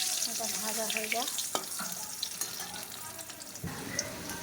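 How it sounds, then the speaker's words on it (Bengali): Potatoes frying in hot oil, meant for a meat curry, give a steady close sizzle with a few stirring knocks and spatula scrapes, and someone speaks briefly over it. "ওই তেলেই আমি একটু আলুগুলো ভেজে নেবো"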